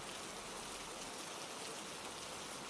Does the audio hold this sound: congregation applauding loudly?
no